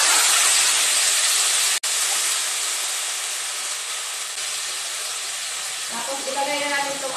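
Fish dropped into a hot pan of ginataang ampalaya with pork cubes, giving a loud, broad, steady sizzle that sustains throughout, briefly cut once, then settles slightly quieter as a voice begins near the end.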